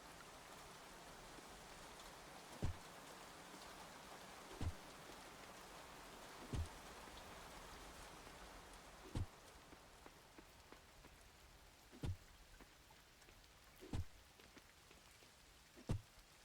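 Steady rain falls in the farming game Coral Island, a soft continuous patter with regular faint clicks spaced every couple of seconds, quiet and unaccompanied by voices.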